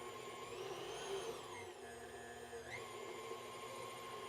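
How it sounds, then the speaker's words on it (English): Stand mixer with a paddle beating batter at medium speed, a steady motor whine with a low churning drone and a brief pitch dip partway through, continuous and fairly quiet with no talk. "Now, it will mix for 2 minutes at medium."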